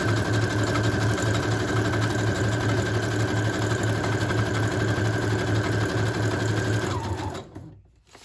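A sewing machine runs a zigzag stitch around a pocket on a vintage-fabric junk journal, humming steadily and loudly for about seven seconds before slowing to a stop.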